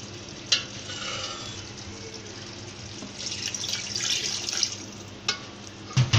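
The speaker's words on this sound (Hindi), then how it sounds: "और अब देखें हल्का हल्का तेल ऊपर आने लग गया है, थोड़ा सा ये भुना चुका है।" Chicken haleem masala frying in oil in a pot, a steady low sizzle with stirring scrapes and a few sharp utensil clinks, heard alone without speech.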